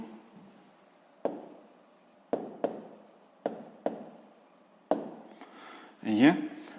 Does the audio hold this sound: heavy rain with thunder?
no